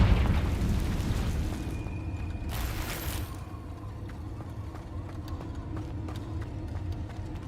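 A Confringo blasting spell goes off in Hogwarts Legacy, a deep booming burst with a bright hissing flare, followed by rumbling debris and scattered small crackles under a steady game ambience.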